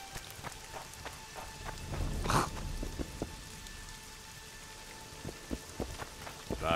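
Steady rainfall in The Witcher 2: Assassins of Kings, a dense hiss of drops pattering on surfaces, with a louder burst near the middle and scattered heavier drips throughout, alone without talk.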